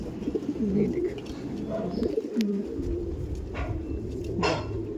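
Racing pigeons in a Kolkata racer loft coo steadily in low, warbling rolls, close by and continuous, with faint background noise around them.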